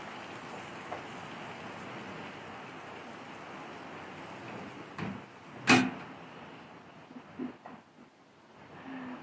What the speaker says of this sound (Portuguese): Vou ter que fechar a janela que a chuva tá muito forte.